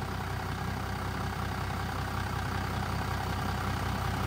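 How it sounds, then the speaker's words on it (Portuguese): A Ford F-250 XLT pickup's tuned V8 engine, over 400 horsepower, idles steadily with a low, even rumble, close and continuous, with no voices. "E olha essa lenta."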